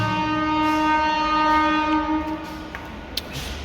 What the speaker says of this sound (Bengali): পুরো ট্রেন চলে যা